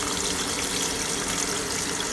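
An 80s Kenmore laundry center washing machine fills with water, a steady close rushing gush of spray and flow that holds even and unbroken throughout, with no voices.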